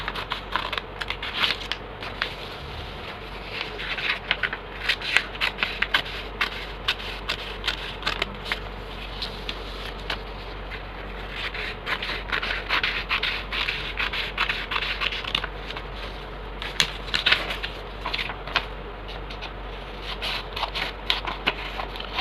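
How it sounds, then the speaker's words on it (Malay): Scissors snip through printed paper number cards during a preschool cutting activity, a steady run of crisp crackling snips and rustles kept close and fairly quiet with no talking. "murid-murid hendaklah menggunting pada garisan atas seperti ini"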